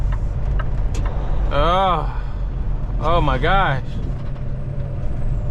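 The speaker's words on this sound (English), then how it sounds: "We got a truck behind us." A truck close behind on a snowy road, engine rumbling steadily, while two rising-and-falling whining tones sweep past; someone exclaims briefly partway through.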